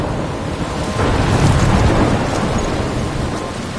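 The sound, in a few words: storm with rain and thunder, from video game Life is Strange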